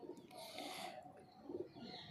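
Pigeons, including a black desi pigeon, coo softly with a couple of low, rounded calls in a breeder's loft, faint against a hissy, noisy background.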